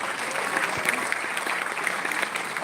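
Sustained audience applause fills a corporate Founders Day gathering, dense steady clapping from a sizable crowd with no voices over it.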